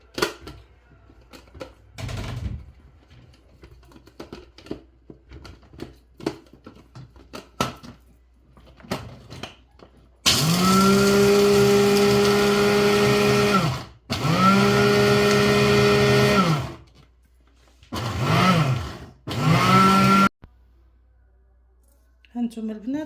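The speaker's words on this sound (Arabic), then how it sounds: "دابا غادي نبدا نطحن اللوز اللي مقلي." An electric blender grinds fried almonds in loud whirring bursts, several separate runs of a few seconds each with short pauses between them, after quieter clinking and handling sounds in a kitchen.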